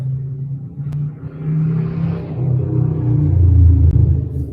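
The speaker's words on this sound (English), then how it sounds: "Someone has a very loud motorcycle out here." A loud engine rumbles closer, its low growl swelling and building in volume as a motor vehicle passes nearby.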